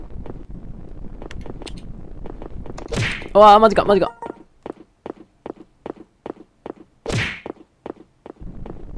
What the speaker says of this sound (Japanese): あ、足音足音。